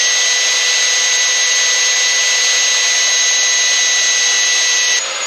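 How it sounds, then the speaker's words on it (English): Power drill boring out a part, a loud steady high-pitched whine running unbroken for about five seconds before easing slightly at the very end, close by with no talk. "So James is drilling the second one right now"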